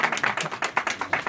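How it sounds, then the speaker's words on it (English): Audience clapping breaks out at a media briefing in Toronto: a loose handful of sharp, distinct claps in an uneven rhythm, close and moderately loud, with no talk over them. "let's clap for Ellie"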